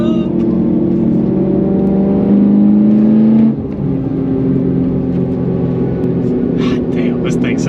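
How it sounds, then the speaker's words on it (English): A BMW E9X M3 engine fitted with an Eventuri intake and titanium exhaust revs loudly from close by, its pitch climbing in a sustained pull before it drops off to a lower droning idle, while a voice talks briefly near the end. "That mixture of plenum noise and titanium exhaust is like just heavenly, heavenly sound."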